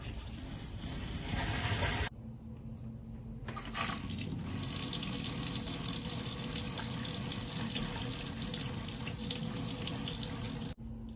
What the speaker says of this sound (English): you're going to go ahead and turn the water source back on to flush the filter.